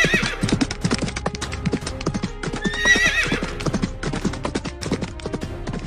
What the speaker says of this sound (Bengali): ফাঁকা মাঠের মধ্যে দিয়ে 3 জন ডাকাত ঘোড়া ছুটিয়ে আসছে।